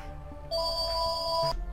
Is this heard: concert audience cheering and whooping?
no